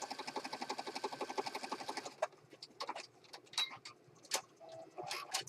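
A sewing machine stitches a pocket for a teal autumn junk journal, a steady rapid rhythmic whir for about two seconds, then stops, leaving scattered faint clicks and light handling sounds.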